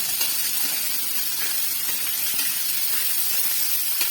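Chopped onion sautéing in a pan with curry leaves, giving a steady, even hiss and sizzle throughout and no speech over it.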